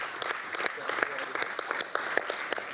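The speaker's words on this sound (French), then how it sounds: "Je pense qu'on peut applaudir Étienne Muller." Scattered applause from a small audience at a French public procurement forum, sparse claps with uneven rhythm under faint voices, fairly quiet and somewhat distant.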